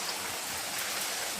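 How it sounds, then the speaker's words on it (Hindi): Heavy rain falls continuously as a dense, even hiss, close and loud, with no voices. "बारिश जो है वो लगातार हो रही है"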